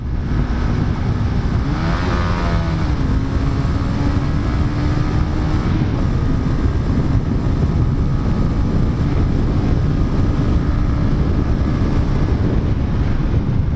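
A Honda CB150R motorcycle with its stock exhaust rides through a tunnel, its engine a steady droning roar with a brief rising rev near the start, buried under heavy wind rush throughout.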